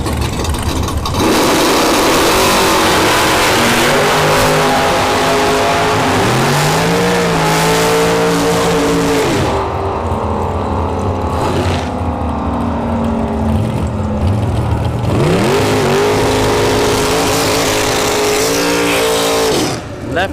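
Sportsman drag racing cars launching down the strip at Bradenton Motorsports Park, loud engines roaring and rising in pitch as they pull away in waves, with an announcer talking over the noise.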